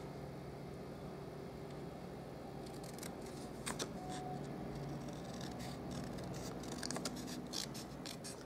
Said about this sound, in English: So I'll just cut that up freehand in a straight line.